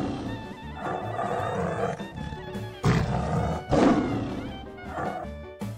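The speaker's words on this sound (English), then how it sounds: "T for" A tiger's roar from a children's alphabet rhyme, a sustained rumbling growl that swells into two loud, harsh bursts midway, set over a steady tonal musical backing with no talking.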